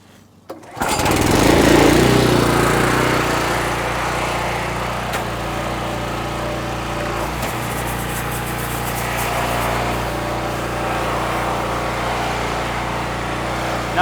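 A gas pressure washer starts up and runs steadily at close range, its engine drone loud and constant as it rinses a vehicle, with no talking.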